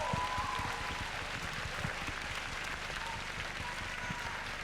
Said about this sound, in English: So let's give them a huge round of applause for everything they've done.